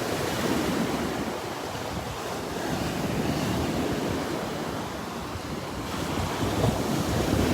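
Ocean surf rolls steadily onto a beach in North Naples, Florida, a continuous loud wash of breaking waves with wind rumbling across the microphone throughout.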